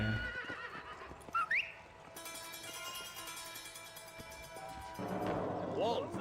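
A horse from the video game Red Dead Redemption whinnies in high, wavering calls over game music and hoofbeats, with a second neigh near the end and voices speaking at times.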